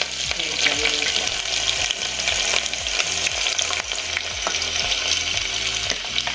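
Chopped onions with garlic and chillies sautéing in hot oil in a pan for a Gujarati ridge gourd sabzi, a steady dense sizzle with occasional stirring scrapes, close and continuous with no talk.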